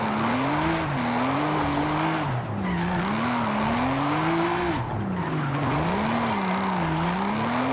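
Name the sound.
car skidding through a crazy turn, Forza Horizon video game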